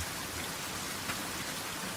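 Steady rain falls at night, a dense, even hiss of drops on surfaces with no voices, continuous and moderately loud throughout.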